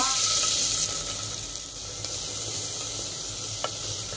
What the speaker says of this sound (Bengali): এখন দিয়ে দিলাম এর মধ্যে জল